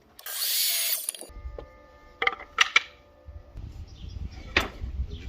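A length of wood is cut for a planter with a power saw: a loud burst of machine noise, then scattered knocks and clatters of wood being handled at close range.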